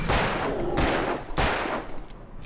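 Hunting rifle gunshots in the video game Alan Wake: three loud, booming shots about half a second apart, each with a long ringing tail, and no voices.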